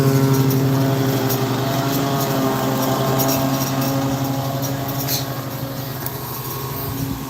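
Small engine drone of a riding lawnmower running steadily and close by, a loud continuous hum with a slight rhythmic flutter and no talking.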